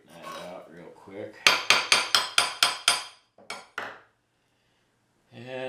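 Small hammer tapping out a curled end, a quick run of seven crisp metallic strikes up close, framed by someone talking before and after, with two more isolated taps near the end.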